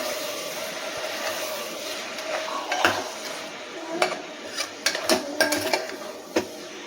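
A spoon stirs vegetables with salt in a metal pot while making brinji rice, with scattered scraping and sharp clinks against the pot, growing more frequent toward the end.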